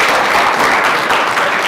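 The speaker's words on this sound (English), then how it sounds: "Can I hear a round of applause for Joel Bohy?" A lecture audience claps for a speaker, a dense, loud burst of applause filling the room without pause.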